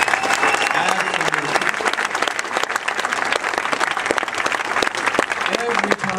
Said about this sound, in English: I'd say that deserves applause.